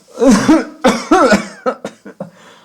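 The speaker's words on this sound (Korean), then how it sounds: "그렇게 기침하신 지 얼마나 되셨어요?" An elderly person with suspected tuberculosis coughs several times in a hoarse, wet burst, the coughs growing shorter and weaker at the end, close and loud.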